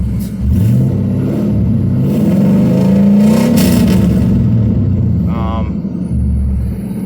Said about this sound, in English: But it seems to rev decent.